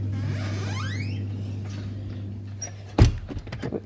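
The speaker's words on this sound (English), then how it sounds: "close the door." A door being closed, a single solid thunk near the end after a steady low hum and a rising squeaky whine, with only faint background sounds afterward.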